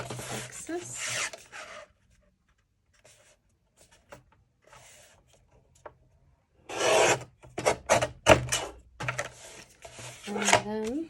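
Scissors or a blade cutting excess card paper, quiet scratchy rasps that cluster in short bursts, close-up, with quiet stretches between and someone speaking briefly.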